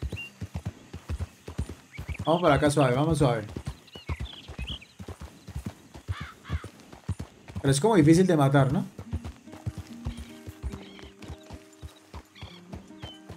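Steady hoofbeats of a horse in the video game Red Dead Redemption 2, with two loud whinnies, under someone speaking Spanish.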